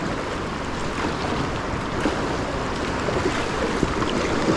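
A Crescent Smallie kayak is paddled through shallow river water, with a steady wash of moving water and wind buffeting the microphone. No distinct separate strokes stand out.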